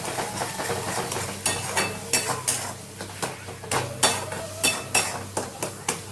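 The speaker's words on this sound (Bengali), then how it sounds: "এটা ভালো করে কষাচ্ছি" A metal spatula scrapes and knocks against a pan while egg and tomato curry is stirred and sautéed in a home kitchen. Rhythmic clinks and scrapes ring out over a steady low sizzle, close and fairly loud, with no talking.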